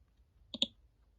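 Two quick mouse clicks close together, crisp and near, in an otherwise quiet room while working in Excel.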